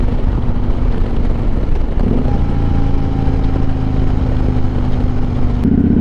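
Motorcycle engine while riding along an open road, a steady loud drone that dips briefly and settles back into a low, even hum.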